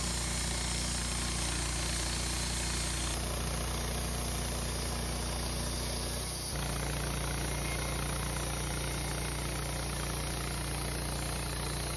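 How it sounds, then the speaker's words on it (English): Woodmizer LT15 bandsaw mill slowly cutting through a dry, bug-killed Douglas fir log, a loud steady engine drone with a continuous grinding blade hum that shifts in tone partway through, with no talk. "This dry bug-killed Doug fir cuts so slow."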